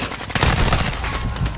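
Rapid sniper rifle gunfire in a first-person shooter video game, a dense run of loud sharp shots packed closely together over a constant background of game noise.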